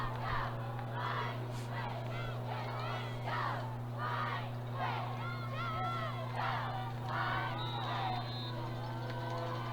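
A high school football crowd from Liberty Hill shouts and chants in rhythmic bursts, stirred up by cheerleaders, heard from a distance over a steady electrical hum, with the chants rising and falling throughout.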